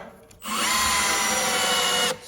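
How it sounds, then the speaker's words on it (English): A power drill drives a screw into a pine 2x4 without pre-drilling, a single loud, steady whirring burst of about a second and a half with a sharp start and stop. "If you're running a lot of screws in, it really helps to stab the tip into the wood to get it to start."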